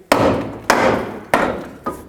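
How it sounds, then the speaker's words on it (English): Four heavy metallic hammer blows strike a rusted front strut on a 2007-2009 Saturn Aura at uneven intervals, each a sharp crack with a ringing tail, close and loud. "I'm going to take my hammer and break it free."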